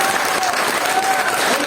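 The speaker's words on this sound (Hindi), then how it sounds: "एक जोरदार ताली हो जाती है" Audience at an evening gathering breaks into loud, dense applause that holds steady for the whole short stretch, with faint crowd murmur mixed in.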